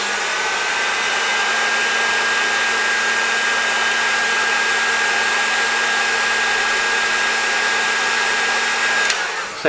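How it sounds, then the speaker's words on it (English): A heat gun warms a circuit board area during a Marshall 30W Lead JMP2201 amplifier upgrade, blowing a steady, loud airy roar with a faint whine that runs unbroken for nearly ten seconds before a brief clunk at the end. "use my heat gun here to just warm up that area"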